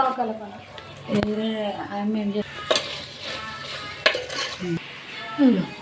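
Masala is stirred into chicken curry in a pan, with metal spoon scrapes and clinks against the pan over a soft sizzle, under a woman's speech.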